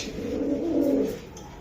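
A single soft, low racing pigeon coo, rolling and close, fading out after about a second.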